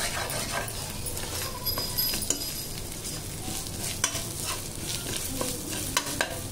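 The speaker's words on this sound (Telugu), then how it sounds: "పచ్చి వాసన పోయేంత వరకు బాగా ఫ్రై చేసుకోవాలి. అల్లం వెల్లుల్లి పేస్ట్ అడగంటకుండా ఇలా కలుపుతూ ఉండాలి." Ginger garlic paste frying in a pan while being stirred continuously, a steady moderate sizzle under repeated scraping strokes and occasional light utensil clicks.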